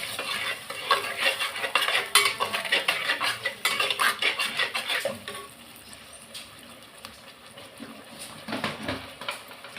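A spoon stirs and scrapes through food sautéing in a pan, with repeated metallic clinks and a soft sizzle underneath. The stirring is busy and rhythmic at first, then quieter with occasional scrapes, and no one speaks.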